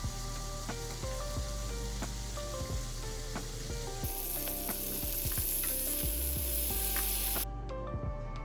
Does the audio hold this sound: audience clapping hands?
no